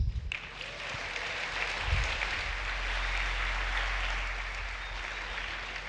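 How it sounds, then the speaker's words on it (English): A large audience at a McGill engineering graduation ceremony breaks into steady, dense applause that holds evenly for several seconds, loud and close, with no talking over it. "I also must personally thank you for clapping for my evacuation speech"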